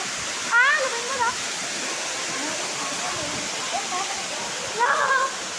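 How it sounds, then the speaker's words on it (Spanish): A waterfall pours in a steady, broad rush of falling water throughout, with brief snatches of voices rising over it now and then. "Meternos debajo de la cascada?"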